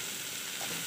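Steady, even sizzle of food sautéing in a pan, a continuous hiss with no distinct stirring strokes, moderately quiet and close, and no voices.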